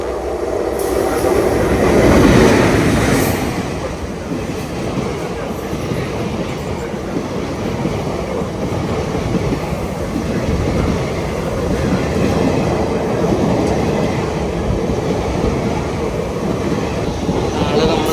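Passenger train running on rails in Kerala, heard from on board as a loud continuous rumble with rhythmic wheel clatter and rattling carriage noise throughout, a voice talking over it.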